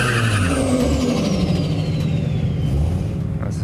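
Race cars rev and idle ahead of a burnout procedure before the first race of the evening, a dense, continuous engine drone close by. A high whine slowly falls in pitch across the clip.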